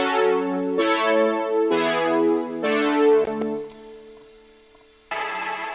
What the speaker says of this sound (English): the diva here, the diva pad.